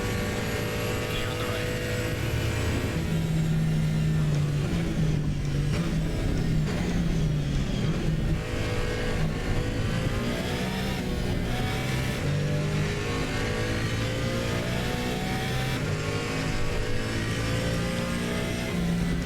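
A GT race car engine drones and revs continuously in Assetto Corsa Competizione, loud and close, with pitch rising and falling through gear changes over the whole stretch.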